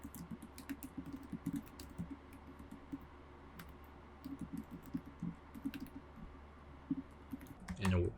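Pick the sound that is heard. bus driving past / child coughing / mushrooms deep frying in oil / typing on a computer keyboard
typing on a computer keyboard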